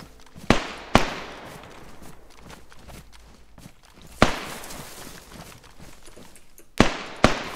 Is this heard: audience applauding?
no